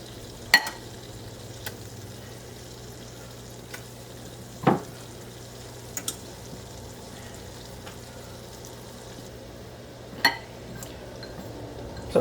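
Beef browning in a hot pan for a creamy sauce dish, a soft steady sizzle underneath with occasional sharp clinks and scrapes of utensils against the pan.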